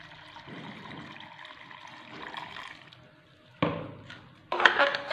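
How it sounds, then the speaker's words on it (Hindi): Water is poured into a packet masala mixture during home cooking, a soft trickling pour with two louder splashing bursts toward the end. "और इसमें थोड़ा सा पानी शामिल करेंगे।"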